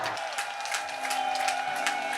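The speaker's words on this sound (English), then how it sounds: "Let's give another round of applause to Director Young-min Chung for his speech." Applause from an audience at the opening ceremony of the World Peace Summit 2024, a steady patter of many hands clapping that lasts a couple of seconds, with some murmuring voices.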